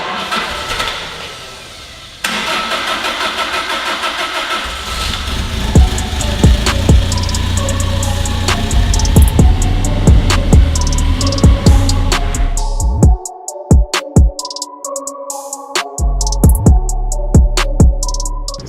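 An old, cheaply bought car being turned into an off-road machine: the engine cranks and catches, then runs with a loud, rough, uneven idle, punctuated by sharp clicks and knocks and a brief drop in sound near the end.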